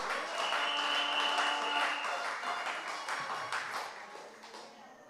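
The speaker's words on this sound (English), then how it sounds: "give yourselves a round of applause" A crowd at a community political meeting in a school gives continuous, dense applause with a faint steady tone underneath, staying fairly loud before slowly easing off.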